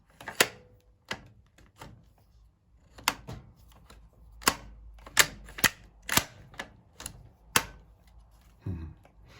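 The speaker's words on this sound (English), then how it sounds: "There will be the obvious clatter of the bolt closing, but behind it you will hear this flip up underneath the bolt." Bolt cycling on a 71-84 Imperial German infantry rifle in excellent condition, with sharp metallic clacks and clatters close by, arriving in irregular clusters of several quick strikes and separated by short quiet gaps.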